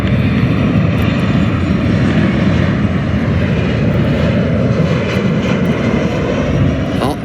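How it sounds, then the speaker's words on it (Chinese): A Jiuyuan Airlines passenger jet landing, a loud continuous roar of engines and rushing air that stays steady and close throughout, with no talking heard over it. "看一下9元航空尾部的升降舵往下一压，后轮的主轮先着陆"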